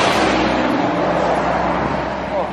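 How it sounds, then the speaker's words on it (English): A large lorry rumbles past close by on a road, a broad steady roar of engine and tyres lasting throughout with a slight swell near the end. "Is there a big lorry behind me?"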